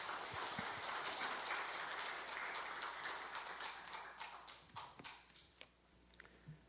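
A church congregation applauds to welcome a speaker, starting as dense, loud clapping and thinning over several seconds into scattered individual claps before fading out.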